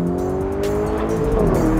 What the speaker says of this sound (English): Insane sounds coming from this car, insane.